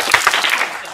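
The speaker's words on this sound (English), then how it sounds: "One big clap for..." Audience clapping at a chamber of commerce legislative summit, a short burst of several distinct claps that thins out within a second, fairly close and loud with no voices over it.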